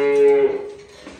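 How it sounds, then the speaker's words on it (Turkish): A cow on a farm in Trabzon lets out a single loud, drawn-out moo that trails off, followed by quiet barn background. "Tabi inekler de çok bağırdı."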